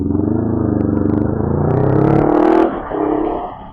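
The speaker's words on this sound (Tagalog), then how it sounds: "Hindi pa naman traffic pero marami talaga yung volume ng sasakyan sa C5." Heavy motor traffic on C5, cars and motorcycles passing close, with a steady engine drone rising into a louder revving pass before dropping off, no talking.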